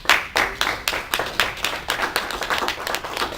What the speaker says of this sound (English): I want to give ICBL a round of applause for that.